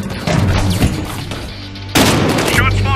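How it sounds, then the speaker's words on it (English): Gunfire from the video game Battlefield Hardline: loud, dense bursts of shots and booms, swelling sharply near the end into a heavier volley, with voices under the fighting. "Shots fired!"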